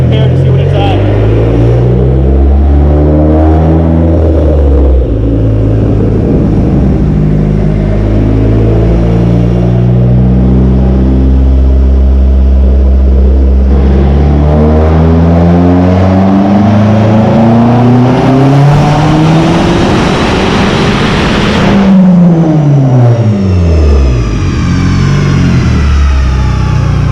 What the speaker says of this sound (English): I'm going to do a third gear pull to compare to see what it's at.